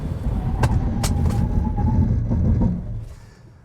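Honda Pilot SUV accelerating hard from a standstill toward 6,000 RPM, a close, loud engine and road rumble that builds through a couple of gear shifts, then eases off near the end.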